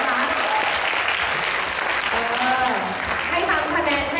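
Audience at a fancy-dress sports awards ceremony applauds, a dense steady clapping that runs throughout the short stretch, with a voice talking faintly over it.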